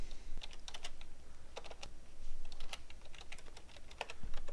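Steady clicking of keys on a computer keyboard as text is entered, a quiet, close run of uneven taps over a low background hum, with no talking.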